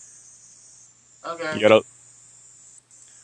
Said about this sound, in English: it's called cicadas